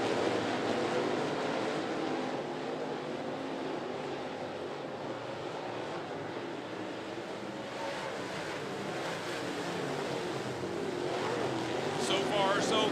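Late model stock cars racing at 411 Motor Speedway make a continuous engine roar with rising and falling passes, and a commentator's voice comes through faintly beneath it.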